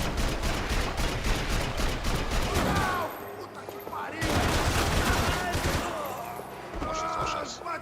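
Video game gunfire bursts in a dense, noisy battle scene with overlapping shots and a player's voice talking, breaking off briefly around the middle before another loud barrage resumes.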